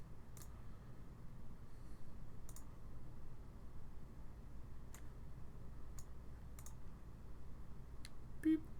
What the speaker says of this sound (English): look at all those mouse clicks